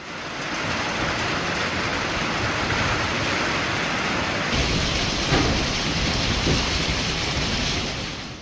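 Heavy rain pours steadily outside a greenhouse, a dense, loud, unbroken hiss with a faint low rumble of thunder during a wild storm.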